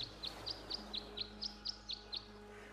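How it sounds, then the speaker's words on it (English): In the video game Tangle Tower, a bird sings a regular, evenly spaced series of about ten bright chirps over a faint low background hum, with no talking. "The birds seem to like it. They're even singing a little tune."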